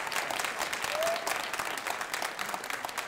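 Dense, steady clapping from an audience at a city budget engagement forum, a continuous wash of hand claps lasting the whole stretch with no talk over it.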